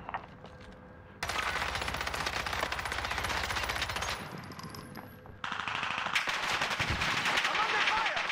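Video game gunfire, rapid machine-gun bursts that cut in and out in loud blocks with sharp single shots between, close and dense, along with in-game voices and effects.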